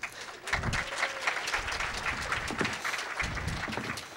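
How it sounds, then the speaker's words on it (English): Audience applause for a panelist at a security conference, a dense wash of clapping from about half a second in that holds steady to the end, close and moderately loud. "Everyone applaud for Laz."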